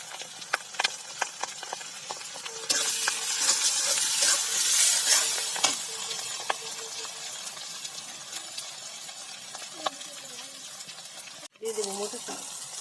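Tomatoes frying and being stirred in a pan, a soft hissing sizzle with scattered scraping knocks of a utensil, moderate in level, while a voice talks at times.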